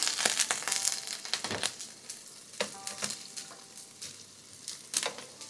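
Continuous close sizzling and crackling of daikon radish slices searing in hot oil, with scraping bursts as they are moved or turned in the pan.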